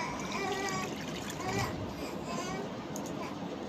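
Water pours into a pot for horse gram dal as a steady splashing trickle, with children's voices and talk faintly behind it.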